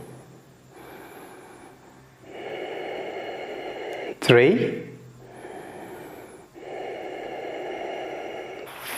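Steady deep breathing held through a beginner yoga pose, long drawn inhales and exhales at an even pace, with one sharper gasp-like breath near the middle and a voice counting softly.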